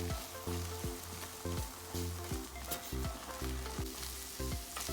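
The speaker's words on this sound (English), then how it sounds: "We're frying up the egg because we're gonna add some eggs to our mixed fried rice." Egg frying in a pan for mixed fried rice, a steady close sizzle with crackle, joined by repeated rhythmic scraping taps of a utensil against the pan throughout.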